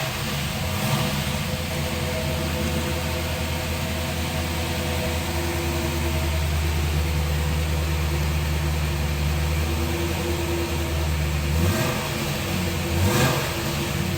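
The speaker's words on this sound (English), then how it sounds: "Nothing sounds like a DZ302. Quick revving. Solid lifters. Music to the ears." A 1969 Chevrolet Camaro Z/28 with its DZ302 small-block V8 and solid lifters runs steadily at a low, even drone, with slight swells in pitch toward the end; no voices.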